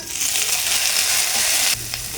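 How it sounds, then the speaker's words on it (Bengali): Tomato goes into a pan of frying onion, garlic and chilli, and a loud close sizzle plays with stirring scrapes, then drops abruptly to a quieter hiss near the end. "এখন দিয়ে দেবো টমেটো,"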